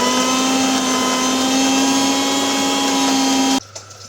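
A kitchen mixer grinder blends chutney paste with water, a loud steady motor whine with a strong constant hum running for several seconds before cutting off abruptly near the end.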